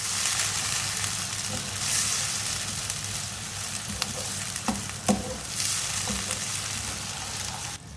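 Peeled chopped tomatoes stirred into frying masala in a pan for a brain (maghaz) fry, a continuous nearby sizzle with soft scraping and a few sharper spoon knocks, steady throughout with no talking.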